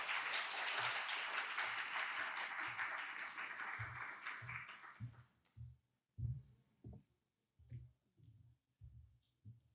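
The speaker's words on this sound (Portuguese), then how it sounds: "Palmas para eles, por favor." A lecture audience applauds with dense, steady clapping for about five seconds, then it thins out into a few scattered, separate claps and thumps.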